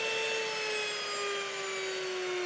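Electric grain mill grinding Kamut wheat into flour, a steady high mechanical whine with a sustained tonal hum, droning evenly and loudly from start to finish with no talking.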